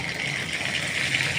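Water left on washed pointed gourds sizzles and spits in hot oil in a pan, a steady close hiss with faint crackling throughout, no talking.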